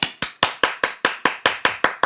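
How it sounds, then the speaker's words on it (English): A single person claps their hands about ten times at an even, quick pace. The claps are sharp and close, with a short decay after each one and nothing else between them. "Clap, clap."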